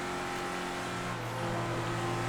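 A GT2 supercar in the GTA V FiveM racing game holds a steady, loud engine drone that rises slightly in revs midway, heard alone with no talking.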